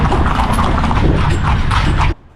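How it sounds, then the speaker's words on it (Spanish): Hooves of horses pulling a carriage clatter steadily along narrow streets near the temple of Edfu, a loud, continuous clip-clop under a dense rumble that cuts off abruptly. "la carroza avanza por calles estrechas, balanceándose de un lado a otro, al sonido de las herraduras de los caballos"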